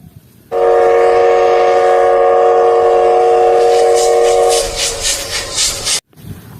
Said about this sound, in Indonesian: Wah, yang ini kereta api teman-teman.